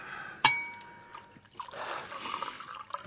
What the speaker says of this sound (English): Top up the fellow's glass.